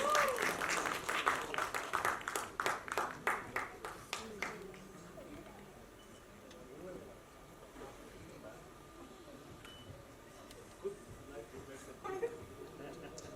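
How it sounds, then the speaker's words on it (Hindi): At a film teaser and book launch, an audience breaks into sharp, distinct claps for the first four seconds, then the applause dies away into a quiet room with faint murmuring and a few scattered claps. "Can we please have a huge round of applause?"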